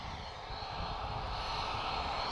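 A Ryanair Boeing 737 MAX jet departing Lisbon Airport for Dublin, its engines giving a steady, loud, broadband roar that holds and swells slightly throughout, with no talking.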